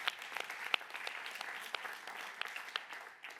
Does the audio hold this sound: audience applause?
yes